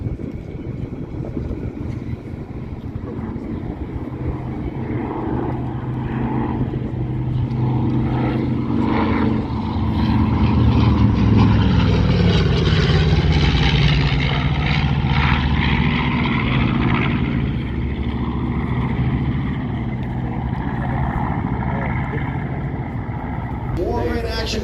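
Vintage propeller aircraft from the film Pearl Harbor flying at an airshow, a steady loud engine drone swelling and fading as it passes, with people talking throughout.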